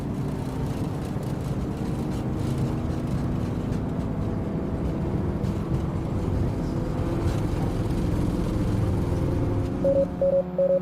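Aircraft engines roar steadily through a takeoff run in a flight simulator game, a loud sustained drone with a low rumble, ending in a few short repeated warning beeps.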